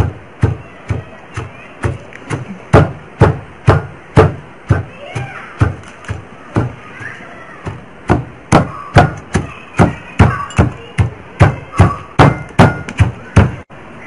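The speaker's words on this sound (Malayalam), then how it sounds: "നന്നായി ഇടികല്ലിൽ ചതച്ചെടുക്കണം" Ginger, cardamom, coriander, pepper and cumin pounded in a stone mortar, a steady series of about thirty heavy, close thuds in an even rhythm, roughly two per second, with faint talk underneath.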